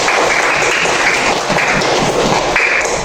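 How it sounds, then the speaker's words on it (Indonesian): Classroom applause for a student fills the room: a steady, dense patter of many hands clapping at close range throughout, with no talk over it. "Tepuk tangan dulu buat Bintang."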